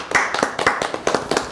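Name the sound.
audience applause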